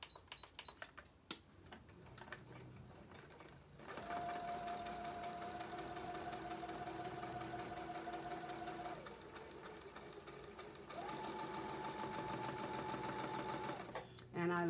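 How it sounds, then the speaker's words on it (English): A beginner-model Brother sewing machine stitches in two long, steady whirring runs with a high motor whine, close by, with a brief pause between them and softer clicks and handling noise at the start and end. "a Brother sewing machine"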